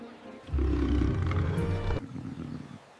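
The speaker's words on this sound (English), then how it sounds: "That roar is loud." A lion at a zoo gives one loud, deep, close roar lasting about a second and a half, trailing into a lower rumble, with no talk over it.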